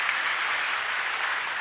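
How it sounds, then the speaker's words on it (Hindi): An audience breaks into loud, dense clapping, a steady wash of applause from a large crowd with no pauses. "एक बार जोरदार ताली बजाइएगा।"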